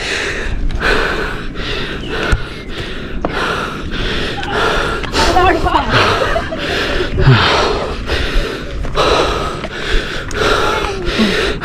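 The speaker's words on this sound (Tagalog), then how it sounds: "Hingal ako." Heavy, close panting after hiking on black lava at Daragang Magayon in Bicol: a long series of loud, rhythmic gasping breaths, repeated roughly every second and continuing steadily throughout.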